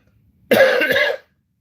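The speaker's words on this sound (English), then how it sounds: "Sounds like you are still coughing" A single short burst of coughing, close and fairly loud, lasting under a second in an otherwise quiet moment.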